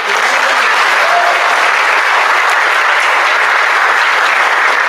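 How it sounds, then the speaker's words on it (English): At an 8th grade school awards assembly, an audience gives loud, sustained applause: dense clapping from many people filling the hall evenly throughout. "All right, give him another round of applause."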